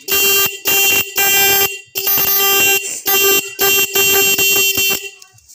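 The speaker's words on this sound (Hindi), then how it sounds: "तो अब मैं आपको हॉर्न बजा के बैटरी से दिखाता हूँ।" Hero motorcycle horn wired straight to the battery sounds in a series of loud, close, steady electric honks of about half a second to a second each, separated by short gaps, with no talk.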